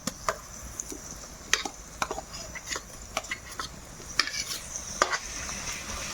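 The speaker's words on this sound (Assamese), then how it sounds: "এতিয়া মছলাখিনি পূৰা বঢ়িয়াকৈ ভাজা হৈ গৈছে গাইছ" Ginger garlic paste and spices fry and are stirred in a pan at home while meat is being cooked, giving a soft steady sizzle broken by repeated sharp scraping stirs of the spoon, fairly quiet and close.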